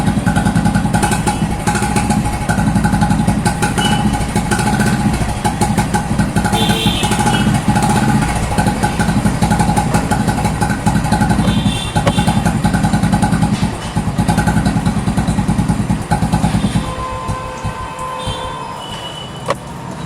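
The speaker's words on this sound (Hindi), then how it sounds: "ये थी पहले साइलेंसर की आवाज़।" Royal Enfield Bullet motorcycle idling and revving through its old silencer: a loud, close, deep thumping exhaust with a steady rapid beat and mechanical clatter, easing lower toward the end.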